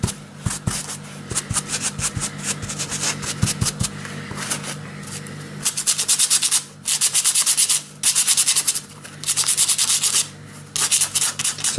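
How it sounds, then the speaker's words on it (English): Kitchen towel rubs paint off a model retaining wall in close, scratchy bursts, beginning with quick uneven strokes and then settling into longer loud rubbing passes separated by short pauses, with no talking. "So all I'm going to do is get my kitchen towel and give it a rub."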